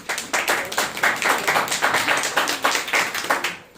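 A church congregation at a Wednesday service clapping loudly together, a rapid dense burst of many hands lasting a few seconds before trailing off.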